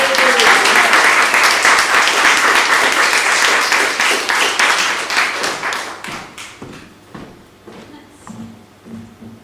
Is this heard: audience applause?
yes